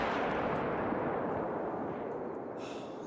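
A rifle shot at a wolf in a hunting video game, a loud broadband boom whose rumbling tail decays steadily over about three seconds, heard alone without talk.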